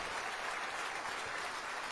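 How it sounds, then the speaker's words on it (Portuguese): Many members of a church congregation keep clapping, a continuous, evenly dense burst of applause that holds at a steady level. "E está vindo mais, vamos aplaudir mais."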